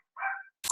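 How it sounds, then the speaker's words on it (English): A dog yips and whines briefly in the background during an indoor call, one short high bark followed by a sharper noisy burst, faint and brief. "sorry about the dogs barking in the background."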